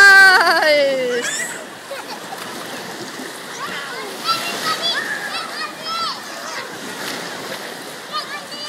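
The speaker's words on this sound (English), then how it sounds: "Whoa, here come the waves!" Waves rolling through a wave pool at the Bukit Batok Civil Service Club, a steady wash of splashing water that stays fairly loud throughout, with children's shrieks and voices scattered over it.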